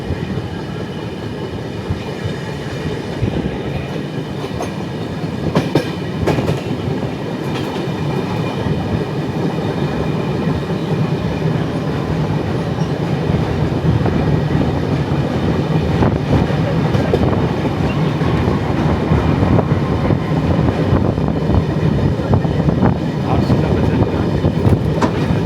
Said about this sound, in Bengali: সামনে আসছে RCF মেমু লোকাল।